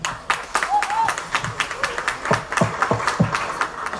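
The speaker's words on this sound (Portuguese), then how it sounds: "Salva de palmas para o Colo a Tremura, grande irmão" A live comedy show audience applauds, with loose, uneven claps that come and go in a sparse rhythm. A few people shout and talk over the clapping.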